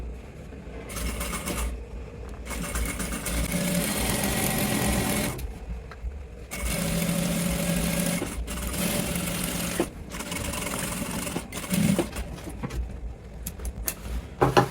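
A sewing machine stitches a trouser waistband joint seam in long continuous runs, with brief pauses where the fabric is held taut and repositioned, loud and close, without talk.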